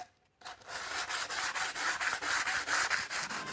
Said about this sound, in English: Okay, now I'm going to clean it up. Flap disc. Some sandpaper.